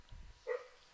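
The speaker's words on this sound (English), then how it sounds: "sorry about the dog barking in the background." A single dog bark rings out in the background during a chess commentary, a short, moderately loud burst with a faint rumble just before it and nothing else around it.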